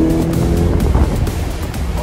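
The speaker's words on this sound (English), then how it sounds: "I'm out test driving the 2021 Corvette." A 2021 Corvette convertible on the move, giving a steady, loud low rumble of engine and road noise mixed with wind rush, continuous throughout with no voices.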